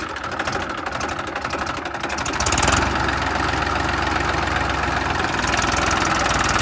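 Engine of a Massey tractor stuck in a field runs continuously up close with a rough, knocking diesel chug, rising in loudness and pitch partway through as it is revved and then held steady.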